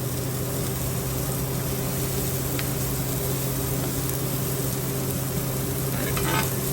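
Ground beef for chopped cheese sizzles on a griddle over a flame with a fan running, a steady close crackling hiss under a constant low hum throughout, with no talking.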